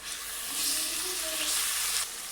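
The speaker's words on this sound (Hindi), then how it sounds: "अब हम इसमें डाल देते हैं 1 अदद बड़े टमाटर का पेस्ट" Tomato paste hits sizzling ginger-garlic in a pot for beef haleem, a short loud burst of hissing frying that swells and then fades.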